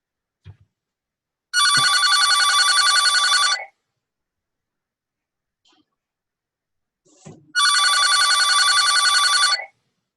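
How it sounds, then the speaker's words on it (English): A telephone rings loudly right beside a computer during an online class session. Two bursts of electronic bell ringing, each about two seconds long, are separated by near silence and a few faint clicks. "Is somebody's phone ringing?"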